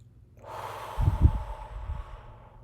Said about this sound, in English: So we're breathing in.